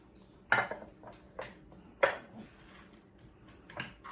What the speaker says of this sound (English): And then I'm gonna mince up some more garlic.